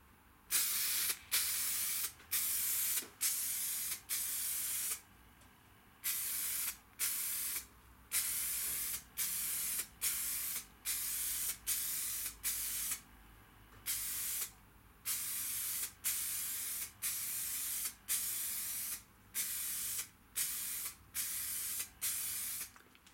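An aerosol can of Full Dip spraying a white coat in about twenty short, even hissing bursts of similar length, separated by brief pauses, close to the listener and steady throughout.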